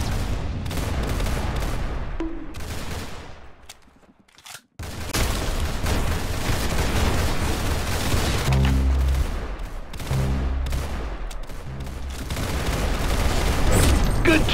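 Rapid automatic gunfire bursts and booms in a Roblox Arsenal match, loud and dense with a brief near-silent gap midway, then continuous firing resumes.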